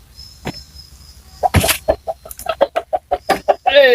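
A chicken being caught during a sacrificial slaughter, close and loud, with a burst of flapping followed by a rapid series of sharp, agitated clucks and squawks that ends in a rising cry.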